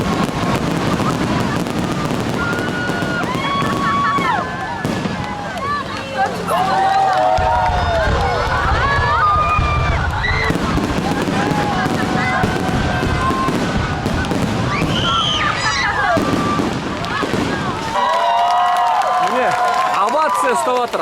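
A fireworks display at an amusement park booms and crackles continuously, with rapid bursts over the noise of an excited crowd cheering, clapping and talking nearby.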